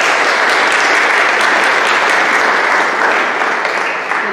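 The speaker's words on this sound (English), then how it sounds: "I think that deserves a round of applause." A church congregation at a Sunday worship service breaks into sustained applause, a dense, steady wash of many hands clapping close by that barely thins over several seconds.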